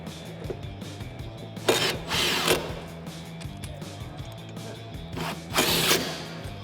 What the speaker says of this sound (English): drive them in with the impact just to speed things up a bit.